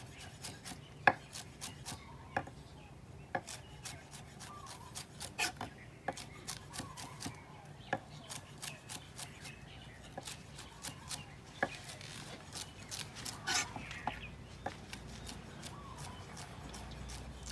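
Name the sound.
knife finely slicing vegetables for potato salad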